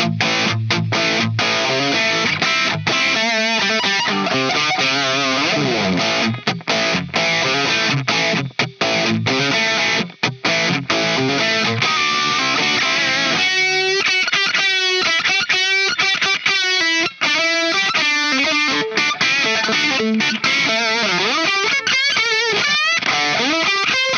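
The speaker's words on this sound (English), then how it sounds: "overall a great overdrive." Electric guitar played through a Walrus Audio Ages overdrive pedal, with driven chords and riffs ringing continuously for over twenty seconds, loud and up front with no talking.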